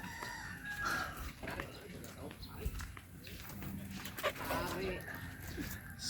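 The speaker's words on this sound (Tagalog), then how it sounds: "At syempre, naghihintay na yung aso." At a house in a coastal village, a waiting dog gives scattered barks and whimpers. The sounds come in short bursts among background noise, with a rooster faintly crowing somewhere nearby.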